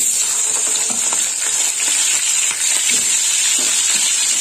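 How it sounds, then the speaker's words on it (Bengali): Eggplant pieces frying in hot oil for a mixed vegetable chorchori, giving a steady close sizzle with crackles and the occasional soft scrape of a spatula throughout. "দিয়ে দিলাম বেগুন।"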